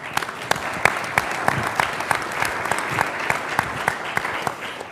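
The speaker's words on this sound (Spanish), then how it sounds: "Le damos también un aplauso." An audience at a science policy panel in Chile breaks into applause, a dense steady clapping of many hands with sharp individual claps standing out.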